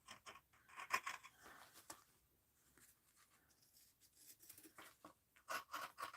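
Scissors slice through a fat quarter of cotton fabric to make a skinny strip, giving a run of close, crisp snipping and rustling strokes in bursts with a quieter stretch between them.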